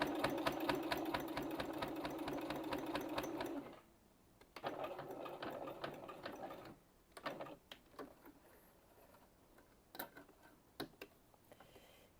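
A sewing machine stitches along the opening of a fabric glasses pouch, running in a steady, loud rapid chatter for about four seconds before stopping, followed by quieter clicks and short handling sounds.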